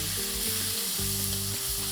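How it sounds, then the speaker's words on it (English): Onions, ginger, garlic and tomatoes frying in hot oil on a tawa: a dense, continuous loud sizzle, close and steady, with a low humming tone underneath. "When the oil is hot and the onions are getting fried, let's add some ginger, some garlic, to this, let me add some tomatoes."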